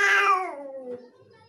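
A person imitating a cat's meow gives one drawn-out, falling mew, loud and close, then tapering into a soft trailing tail.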